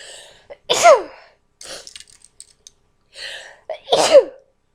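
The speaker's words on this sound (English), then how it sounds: "Oh god, Gesundheit." Two loud sneezes, each preceded by a quick sharp inhale, separated by a couple of seconds of quieter breathing.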